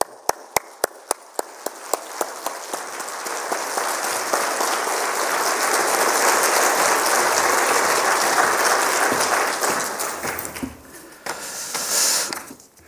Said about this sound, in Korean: 나오실 때 우리 뜨거운 박수로 환영합니다